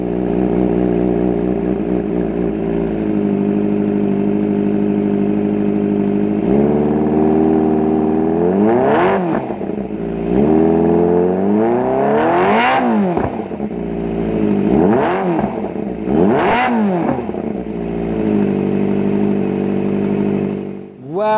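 A Kawasaki ZX25R four-cylinder motorcycle with a loud aftermarket exhaust idles close by, then gets blipped hard several times, each rev rising sharply to a high shriek before falling back, with no talking.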